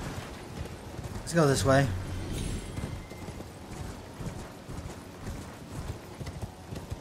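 Mounted enemy's horse in Elden Ring, a brief burst of hooves and a short whinny near the start, then a continuous game ambience with a person talking briefly.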